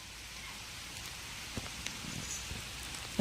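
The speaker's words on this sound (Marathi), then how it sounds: "आज गरजून पाऊस असा पडतोय आमच्याकडे" Heavy rain comes down as a steady, fairly faint broadband patter, with a few soft drop hits standing out near the end and no voices over it.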